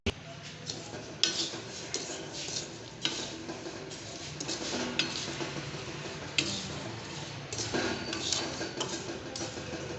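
Peanuts roast in salt in a pan and are stirred slowly, giving a continuous gritty rattle and scrape with repeated sharp clinks of the spoon against the pan, close and moderately loud.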